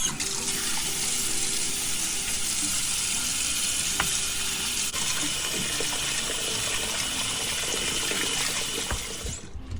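Raw meat rinsed under a running kitchen tap, with a constant rushing stream of water and occasional splashes and handling noises, steady and close, tapering off at the very end.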